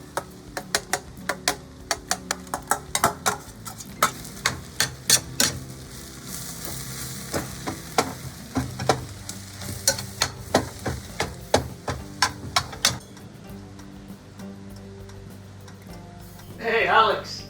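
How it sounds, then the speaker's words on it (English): Six eggs being stirred into brown rice for fried rice, with sharp repeated utensil taps and scraping against the pan over a faint sizzle, followed by voices near the end. "Now we're going to take the eggs and mix them with the rice."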